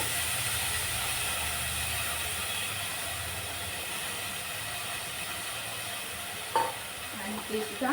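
Moth beans (matki) fry in oil over medium heat, a steady broadband sizzle holding throughout, with a few sharper stirring scrapes near the end.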